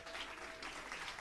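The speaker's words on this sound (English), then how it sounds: "Applause for Tobiasen." Faint, brief audience applause at a 10 m air rifle standing mixed shooting final, a soft continuous patter of clapping.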